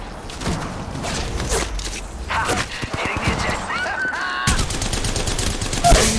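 Rapid bursts of gunfire sound in the Apex Legends battle royale game on the Kings Canyon map, with clattering shots, footsteps and other game effects layered together and spoken lines mixed in.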